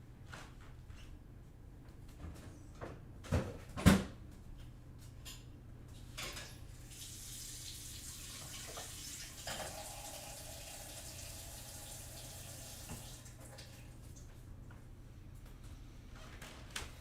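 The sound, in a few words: water running from a tap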